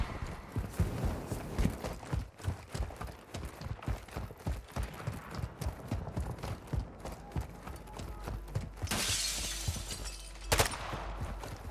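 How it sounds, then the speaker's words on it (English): A Molotov cocktail bursts with a bright glassy shatter and whoosh during a firefight in Call of Duty DMZ, arriving late after a stretch of busy footsteps, impacts and combat noise. "Molotov!"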